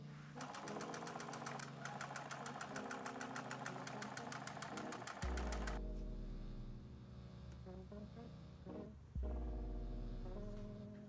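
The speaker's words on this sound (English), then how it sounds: "top stitch a 1/2 inch with a straight stitch all the way down on the main part of the dress" A sewing machine top-stitches a straight seam along a dress, a fast steady mechanical whir that runs for about five seconds and then gives way to lower motor hum and thumps.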